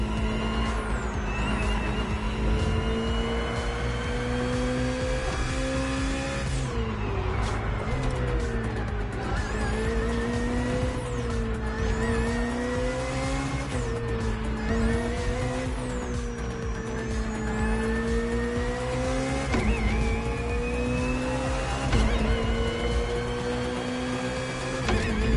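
BMW hybrid V8 race car in The Crew Motorfest, engine droning steadily with rising and falling pitch as gears shift, loud and continuous for the whole stretch with no voices.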